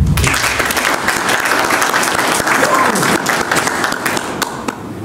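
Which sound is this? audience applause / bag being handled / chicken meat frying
audience applause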